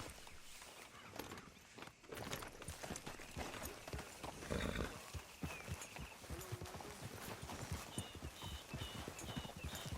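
Horse hooves clip-clop at a steady walking pace in Red Dead Redemption 2, close and continuous, with a brief whinny and characters talking over the ride.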